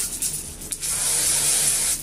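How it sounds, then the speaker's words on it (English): A steady hairspray aerosol hisses for over a second after a brief rustle, close and fairly loud, with no talking. "I'm gonna get my handy dandy hairspray."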